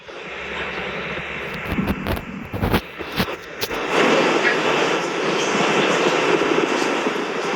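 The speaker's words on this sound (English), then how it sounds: "we will begin to throttle Falcon 9's engines back up" A SpaceX Falcon 9 rocket climbs in flight with its engines throttling back up, a broad distant roar that swells and thickens after a few crackling bursts.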